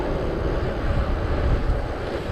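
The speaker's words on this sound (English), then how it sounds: "Woo, this wind." Strong seaside wind buffets the microphone on a sunrise bicycle ride along a stormy coast, a loud, continuous low roar with gusty swells and no clear voices.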